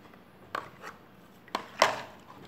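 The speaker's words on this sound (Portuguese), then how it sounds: "Ó, tô mexendo" A spoon stirs homemade Omo-style liquid laundry soap in a container, giving a few scattered scraping and knocking strokes, the last and loudest near the end, over a quiet background.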